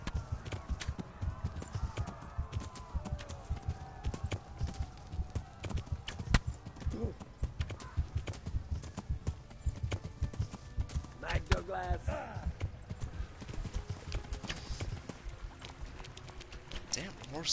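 Horse hooves clip-clop at a steady trot in Kingdom Come: Deliverance, a continuous rhythmic beat with a brief whinny partway through and someone talking over it.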